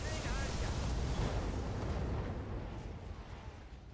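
Game weapons fire all at once, a dense roaring barrage of blasts and rumbling explosions that stays loud and continuous throughout, mixed with a voice.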